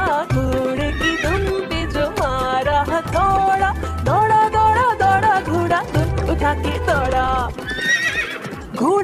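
Cartoon horse whinnying and clip-clopping in a Hindi children's rhyme about a wooden-saddled horse, heard amid bouncy music and sung vocals, with hoofbeat-like rhythmic thumps running through the whole stretch.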